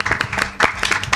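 Brief burst of studio audience clapping for a guest on a Croatian acoustic music show, a scatter of distinct claps over about a second.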